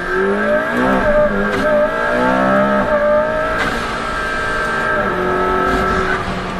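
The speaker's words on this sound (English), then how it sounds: "Wastegate noise is awesome. It's got a great shriek to it." A McLaren P1 engine revs up and down nearby, its pitch sweeping and climbing, with a high whistling wastegate shriek riding over the roar.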